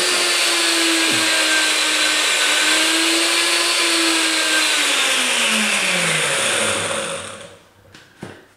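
Kitchen blender whirring loudly and steadily as it blends protein powder, ice cream and milk, its motor pitch sliding down near the end before it cuts off with a couple of faint clicks.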